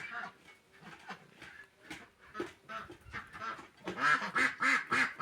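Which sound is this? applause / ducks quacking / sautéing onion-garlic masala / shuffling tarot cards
ducks quacking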